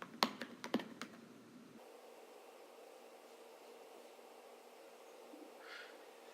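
A few quick keystrokes on a computer keyboard land in a short burst at the start, close and crisp, then give way to quiet room hiss.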